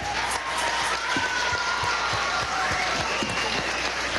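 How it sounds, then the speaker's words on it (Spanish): A crowd at a cultural house reopening in La Victoria, Aragua, breaks into loud, sustained applause, thick overlapping claps with faint cheering mixed in and a few dull low knocks underneath. "vamos a darle un aplauso."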